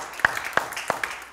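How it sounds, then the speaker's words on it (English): A few distinct hand claps ring out in a church congregation during a Sunday service, spaced evenly in a slow rhythm and fairly quiet against the room's background. "Give him a hand clap this morning."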